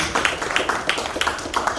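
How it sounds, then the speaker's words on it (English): Clapping at a large public meeting in Zanzibar, a fairly quiet, steady patter of hands with scattered distinct claps over a soft background murmur. "Really great round of applause for Farida."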